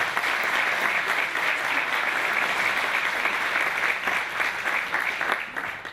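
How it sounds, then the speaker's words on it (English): A crowd claps steadily after a Gaelic-language song at a Christmas carol show, dense even applause held for about six seconds at moderate distance. "Give her a round of applause."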